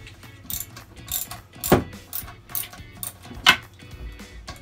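Toilet seat bolts being tightened during a seat install, giving a run of mechanical ratcheting clicks with a few louder scraping bursts, close by and with no talk.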